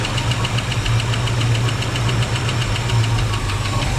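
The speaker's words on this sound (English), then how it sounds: "Not liking that lifter noise," The engine of a 1965 Ford Mustang barn find idles up close with a rapid, even ticking lifter noise riding over a low, steady rumble.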